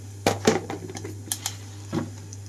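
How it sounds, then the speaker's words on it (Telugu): Scattered sharp crackles and pops, a few close together then sparse, like mustard seeds, cumin and a dried red chilli spitting in hot oil over a steady low hum. "ఇక్కడ తాలింపు అంతా చిటపటమనేటప్పుడే"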